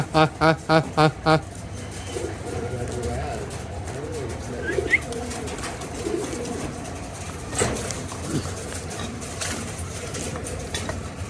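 A stray pigeon gives a quick run of five rhythmic, resonant coos up close. Mixed, busier sounds follow, with scattered knocks and some voice-like murmur.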